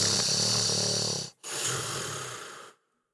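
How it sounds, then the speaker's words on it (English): A person snores loudly and close by, two long rasping breaths with a short gap between them, followed by silence. "There was a snoring sound,"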